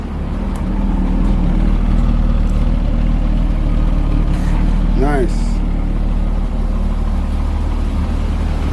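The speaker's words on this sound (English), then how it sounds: "Let's hear this car, man." A BMW E36 widebody sedan with a built engine runs steadily up close, a constant loud low rumble throughout, with a brief spoken remark partway through.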